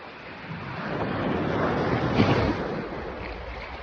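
Ocean surf washing onto the shore, a broad rushing swell that builds and peaks midway before easing back, with some wind buffeting the microphone and no voices.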